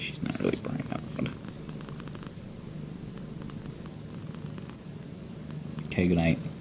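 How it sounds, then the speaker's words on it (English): A soft, continuous cat purr hums low and close, with a brief louder snuffle near the end. "I'm trying to let you hear her purr,"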